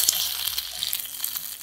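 An egg fries in a stainless steel pan with a soft, steady sizzle and crackle, close by and alone without speech.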